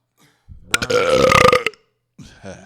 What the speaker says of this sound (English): Excuse me, I have to burp first.